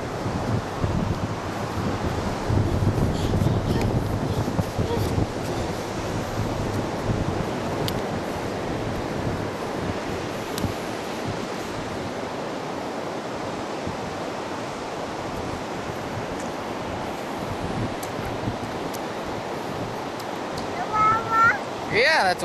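Ocean waves and wind on the beach at Kiawah Island make a steady broad wash, louder at the start, with microphone wind buffeting and a brief voice near the end.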